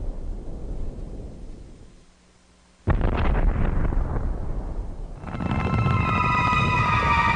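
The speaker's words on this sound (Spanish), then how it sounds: "la lanzadera espacial filmó estas explosiones sobre México" Asteroid explosions in the atmosphere over Mexico: after a quiet stretch, a sudden loud boom bursts in and rolls on as a heavy roar, later joined by a sustained ringing, tonal layer.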